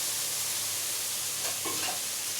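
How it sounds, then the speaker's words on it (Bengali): Water poured from a bowl into spice masala frying for tel koi, a spicy fish curry with cumin, coriander and tomato puree, giving a steady broadband sizzle with a brief burst of liquid hitting the hot pan. "এবার বাটি দিয়ে জলটা দেবো"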